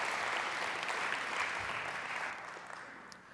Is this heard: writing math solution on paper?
no